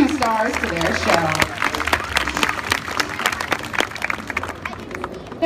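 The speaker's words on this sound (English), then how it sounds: "how about another big round of applause to welcome back our 2 stars to their show" Audience at an aquarium sea lion show breaking into applause, a steady patter of many hands clapping close and fairly loud, with a presenter talking over it at the start.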